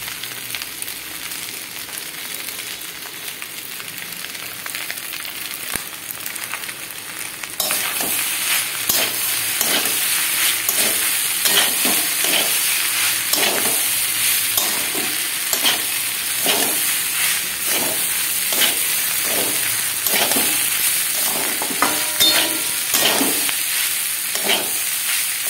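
Egg pasta with tomato sauce stir-fried in a pan: a steady loud sizzle with repeated scraping and stirring strokes, rising sharply after the first few seconds and continuing throughout without talk.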